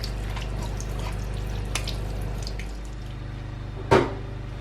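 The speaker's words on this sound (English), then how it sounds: "And my cucumber too, I'll wash that too very well." A cucumber is washed under a running kitchen tap, with a steady trickle of water, faint dripping and a short louder splash near the end.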